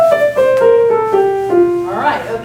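A piano played legato with a rotated touch: five connected notes step downward in a smooth, even line, then a voice begins talking near the end.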